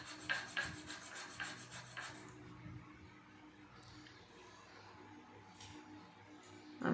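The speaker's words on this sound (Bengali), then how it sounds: "সবার প্রথমে দেখো চন্দন বেটে নিলাম" Sandalwood is ground into paste for a home worship ritual, a few soft rhythmic rubbing and rasping strokes at the start that fade into quiet room tone, close but faint.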